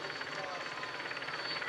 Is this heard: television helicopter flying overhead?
yes